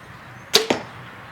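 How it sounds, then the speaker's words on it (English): A Diamond Carbon Cure compound bow fires a lightweight 350-grain target arrow, giving two quick, sharp snaps about a tenth of a second apart, close and fairly quiet against a soft background hiss. "So I'm shooting about a 350 grain deer crossing target arrow"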